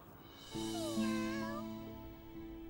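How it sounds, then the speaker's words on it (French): In a Winx Club cartoon, a kitten gives one drawn-out, wavering meow over soft, sustained background music. "Oh, c'était juste un chaton."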